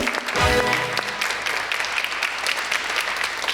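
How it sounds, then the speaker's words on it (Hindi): A burst of applause from a talk show audience, many hands clapping in a dense patter that starts strong and continues steadily. "भाई तालियां"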